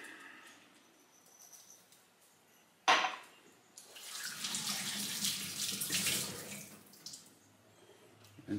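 Tap water running into a sink while capers are rinsed, a faint drip and clink at first, then a louder steady splashing stream for several seconds before it eases off.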